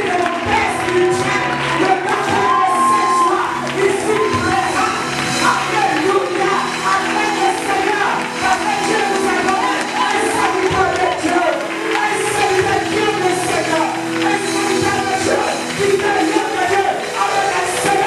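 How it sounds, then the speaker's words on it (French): A church congregation cheers and acclaims Jesus, a dense, sustained crowd roar of voices and whoops filling the space, loud and continuous throughout. "j'aimerais qu'on acclame le Seigneur Jésus pour la vie de la paix spirituelle"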